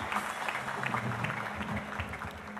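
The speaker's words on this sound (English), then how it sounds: "Another mighty hand clap for the Chancellor," A graduation audience applauds the Chancellor, a steady wash of clapping hands that holds at an even level throughout.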